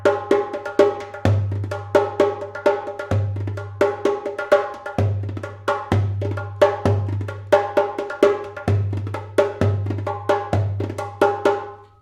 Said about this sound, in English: and then you can add all the dooms and the techs with your other hand.